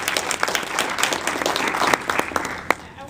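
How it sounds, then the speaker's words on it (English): An audience applauds a guest speaker at a jobs and legalization talk, a steady wash of many hands clapping with a few sharper claps standing out, sustained for a few seconds at moderate loudness. "let's give a big round of applause for our speaker"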